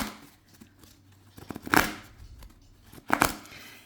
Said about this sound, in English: Just listen to the shuffle.